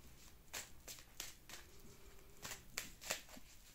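Tarot cards being shuffled by hand for a reading, giving a series of soft, brief riffling and slapping bursts in a quiet room, with no talking.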